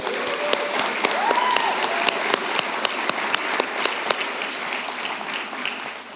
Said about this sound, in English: That requires a round of applause in the middle.